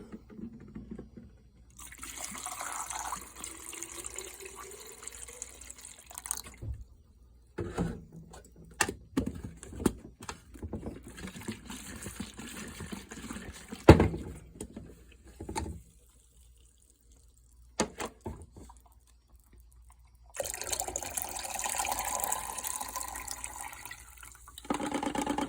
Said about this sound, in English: We'll give it some rinse.